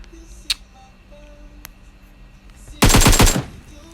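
Rapid automatic gunfire from the video game PUBG bursts out loud in a dense volley of about ten shots near the end, preceded by a couple of isolated sharp clicks.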